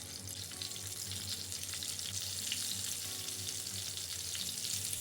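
Koli-style stuffed brinjals packed with dried jawla shrimp masala fry on a pan, giving a steady, quiet sizzle of hot oil for a few seconds with no voices.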